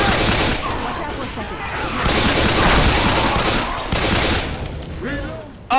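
Dense, continuous gunfire in the zombie shooter Left 4 Dead 2, loud and sustained as rapid bursts overlap and blur into one another throughout, with game noise layered in and voices briefly audible near the end.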